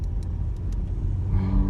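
A turbocharged, propane-fuelled Chevrolet Optra engine revs hard and steadily, a loud, close rumble that climbs in pitch toward the end, with no talking.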